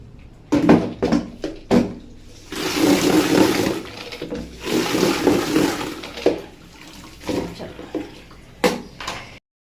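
Water rushes and splashes steadily for several seconds as a pet's water bowl fills, framed by clattering knocks and bumps of the bowl being handled, with no voices.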